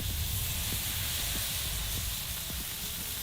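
Pork tenderloin sears in a hot pan, giving a steady, dense sizzling hiss with faint crackles and pops scattered through it, loud and continuous without talk.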